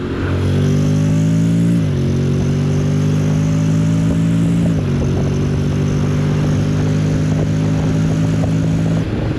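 A Honda X-ADV 750 scooter-style motorcycle engine drones steadily and loud, its pitch stepping down twice as the rider shifts from fourth to third to second, with no talking over it.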